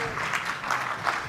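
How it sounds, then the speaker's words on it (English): An audience at a health talk on cancer bursts into brief, steady applause, a dense wash of clapping that stays even throughout. "Give them a round of applause."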